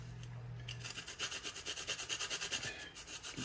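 Nutmeg being grated on a kitchen grater for rice pudding, producing a close, rhythmic rasping scrape of quick repeated strokes that speed up toward the end.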